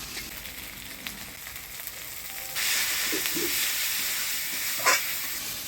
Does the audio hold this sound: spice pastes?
yes